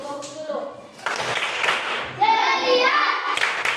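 A school class claps rhythmically in unison during a lesson, a short burst of group clapping mixed with children's voices and classroom chatter, fairly close and moderately loud.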